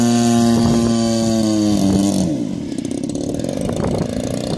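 A small engine running loud and close while being adjusted, its steady droning tone shifting in pitch before dropping into a rougher, fluttering idle with faint overlapping noise.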